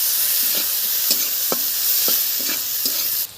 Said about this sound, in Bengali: তেলের মধ্যে দিয়ে দিচ্ছি জিরে,